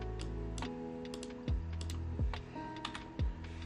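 Quick bursts of keystrokes on a computer keyboard, a few light taps followed by sharper clacks, close and quiet with no talk.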